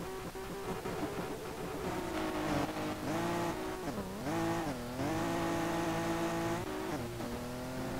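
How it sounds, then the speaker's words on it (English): A race car launches from the start in Street Legal Racing Redline, the engine roaring loud and close, pitch climbing and dipping through wavering revs with brief tire chirps and steady high strain throughout, no talk. "it's so hard to get a good launch in this car"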